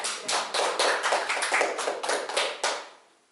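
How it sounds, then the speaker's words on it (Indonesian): A classroom of students clapping hands together, a short crisp round of close, bright claps with uneven rhythm that fades out at the end. "Tepuk tangan dulu"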